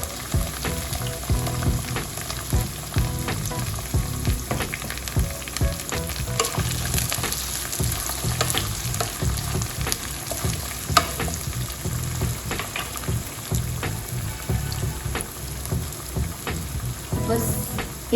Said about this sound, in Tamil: சின்ன வெங்காயமும் சேர்த்துடலாம்.